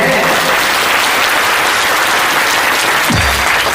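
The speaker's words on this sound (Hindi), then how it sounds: "एक बार जोरदार तालियां हो जाए।" Loud, sustained applause from the audience at a Shiv Mahapuran katha religious gathering, a dense wash of clapping that fills the whole stretch without a break.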